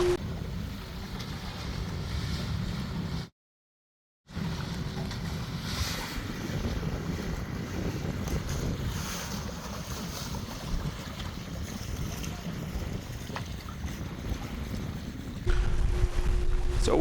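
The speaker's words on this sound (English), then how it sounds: "We are running on the power of the sail on the Yankee." Steady rush of wind and water around a 21 m aluminium sailing catamaran moving under its Yankee sail, with a brief dropout early on and a slight rise in level near the end.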